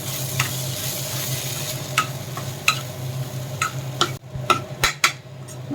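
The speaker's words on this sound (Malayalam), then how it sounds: "മുളക് പൊടി, കുറച്ച് ഗരം മസാല എന്നിവ ചേർത്ത് നന്നായി ഇളക്കുക." Chili powder and garam masala being stirred in a pan, a spoon scraping and tapping in scattered strokes over a low steady sizzle, with a few sharper clinks near the end.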